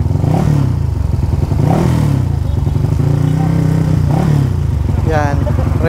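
Suzuki Raider FI motorcycle with a 68mm bore, engine loud and close, revving repeatedly in rising and falling bursts with a rattly, clattering edge, with talk at times.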